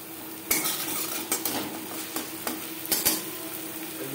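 Ginger and green chili paste fry in a little oil while a utensil scrapes and knocks against the pan in irregular strokes over a soft, steady sizzle, heard close with no voices.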